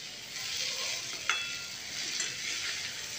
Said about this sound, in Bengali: এরপর একটু জল দিয়ে দিচ্ছি যাতে পেঁয়াজের সাথে আমি যা শুকনো মশলা দিয়ে ভাজবো সেগুলো যাতে পুড়ে না যায়